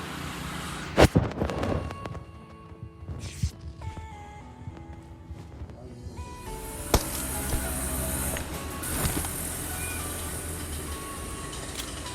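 Bombs explode in a video game, a few sharp bursts spread through the stretch among quieter, mechanical game sounds, with no talking.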